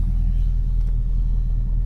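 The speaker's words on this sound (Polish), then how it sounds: "Auto normalnie chodzi." Audi Coupe V8 engine running normally with the throttle barely pressed, a loud, close, steady low rumble sustained without a break and no speech.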